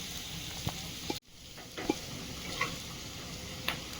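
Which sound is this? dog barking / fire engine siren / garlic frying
garlic frying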